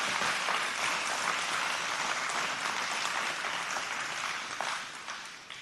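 An audience applauds in a county planning commission meeting room after a public speaker, a steady wash of clapping lasting several seconds before tapering off at the end.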